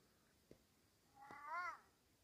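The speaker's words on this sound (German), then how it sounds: "Da ist ein Kater." A tomcat gives a single short, fairly faint meow, preceded by a couple of soft taps in a quiet space.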